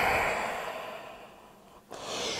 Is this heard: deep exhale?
yes